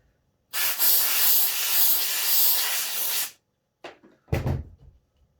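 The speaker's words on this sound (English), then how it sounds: "Get some steam on it." A long burst of steam hisses loudly and steadily onto a felt hat on a basic wooden hat block for about three seconds, then stops, followed by a few short knocks and clunks nearby.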